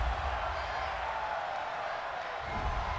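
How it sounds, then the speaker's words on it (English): A stadium crowd at a Pittsburgh Steelers versus Baltimore Ravens football game reacts unhappily to a penalty call, a broad, distant roar of many voices that swells slightly near the end. "this crowd does not like that call"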